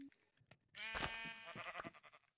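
Minecraft sheep bleating in a video game: a loud, wavering bleat of about a second, followed by shorter choppy bleat fragments, close and clear with no talk over it.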